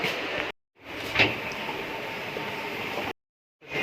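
Low rumble of a train moving off from Washim, with a brief metallic clank, heard from inside a carriage between two short gaps of silence.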